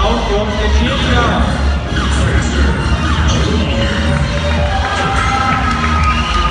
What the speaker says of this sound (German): Ein Applaus für uns den Schiedsrichter